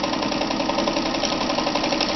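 A Kenmore 158.13033 sewing machine straight-stitches heavy fabric with a long stitch length, running in a steady, loud, close-up mechanical whir with a rapid needle rhythm and no talking.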